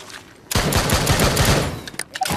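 A 12-gauge shotgun fires in the video game Drop Dead: Bombs Away, a loud, close burst of rapid booming blasts that cuts off sharply, followed by a few faint clicks.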